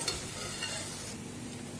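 Cooked rice is added and stirred into a lemon mixture in a pan, a faint steady scraping and sizzling hiss with no talking.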